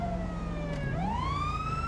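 Police car siren in a GTA roleplay video game, a continuous wailing tone that dips and then sweeps upward, loud and steady over an engine hum, with no talking.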